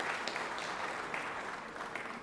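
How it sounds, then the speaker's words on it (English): A faint, steady round of applause fills a legislative chamber after a longtime Jackson city council member is introduced, with continuous clapping and no voices. "Let's give him a round of applause there."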